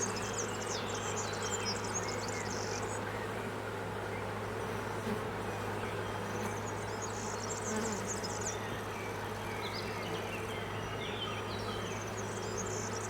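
Honeybee colony droning steadily while the hive is split into artificial swarms, a dense continuous buzz close by with individual bees whining past.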